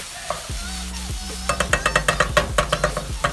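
Mushrooms browning in a hot pan while being stirred for a stuffed ribeye roast, giving a steady run of rapid scraping and clicking strokes over a constant sizzle, the stirring quickening and growing louder in the second half.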